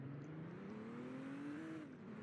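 In the video game Emergency Response Liberty County, a police car drives past with a steady engine drone that rises gently in pitch, fairly faint and with no talking.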